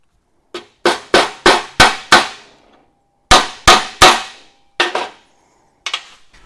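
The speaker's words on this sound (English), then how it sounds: "So I'm gonna drive that pin in." A roll pin is driven into a tractor three-point hitch quick connect with a hammer: two bursts of sharp metallic strikes, five quick blows, a pause, then three more and a couple of lighter taps, close and loud with no talking.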